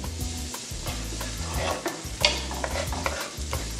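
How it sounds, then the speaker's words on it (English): Garlic and onions sizzling in olive oil for vegan spaghetti primavera, a steady close crackle with frequent stirring scrapes and a low background hum. "put the garlic in there. I'm going to take the onions, start with that."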